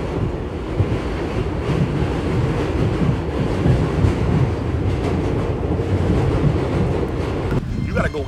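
A northbound subway train in Philadelphia gives a loud, continuous rumble and roar with rushing noise that stays steady throughout, close by, and no clear speech over it.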